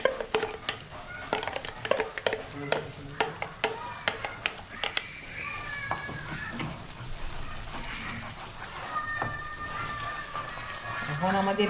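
Chicken Afghani chop fries in a pan as whipped milk cream goes in and is stirred. Close, steady sizzling runs under repeated clicking spoon strokes, and a voice talks over it.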